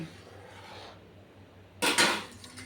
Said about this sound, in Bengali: তারপর আবার এই কটা বাসন মাজবো